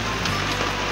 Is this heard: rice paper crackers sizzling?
no